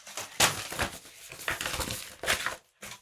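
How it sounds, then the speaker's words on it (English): Papers are rustled and crinkled close to the microphone in a podcast studio, a run of uneven crisp bursts with short pauses and no talking. "I was rustling papers as though I had papers related to the investor shout out."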